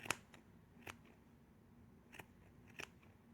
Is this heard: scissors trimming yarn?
yes